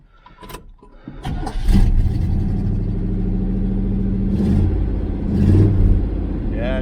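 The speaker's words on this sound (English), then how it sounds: "it's still loud with them glass packs." A 1976 Chevrolet El Camino engine with headers and glasspack mufflers cranks over and catches, settling into a loud, throaty idle with a deep, raspy exhaust burble and a couple of brief revs.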